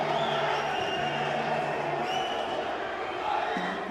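A football stadium crowd at a Colombia versus Morocco match roars steadily after a foul call, a broad sustained wash of noise with some chanting tones, heard from a distance under no clear speech.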